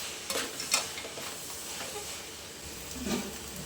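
Onions sautéing in a pan for a Kerala egg roast, along with crushed ginger, garlic, coriander and mint leaves, giving a soft steady sizzle with a few brief spoon scrapes, close but quiet and without speech.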